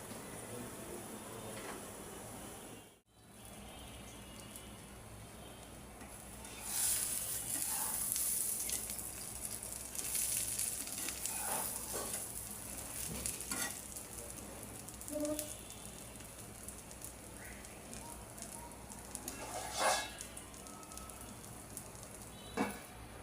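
Eggs fry in a little oil in a pan, giving a soft steady sizzle that grows louder and crackles partway through, with occasional light clinks.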